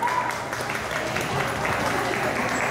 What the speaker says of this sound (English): please give a big applause for them